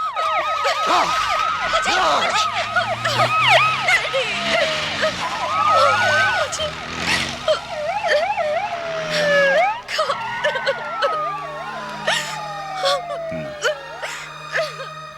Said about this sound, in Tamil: சோனியா ஃபயர் இன்ஜின் எடுத்துட்டு வந்து